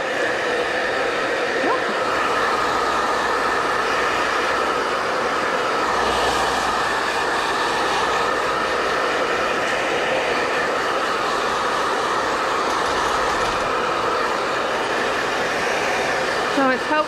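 A grooming dryer blows steadily and loudly on a Yorkie-Poo puppy during a fluff dry, a continuous close whooshing roar with faint brushing and handling beneath it.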